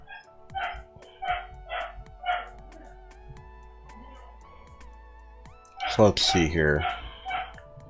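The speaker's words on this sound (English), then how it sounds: "Dog is going crazy right now." A dog barks excitedly indoors: a series of sharp, evenly spaced barks, then a louder burst of yelping barks near the end. A person talks briefly over it.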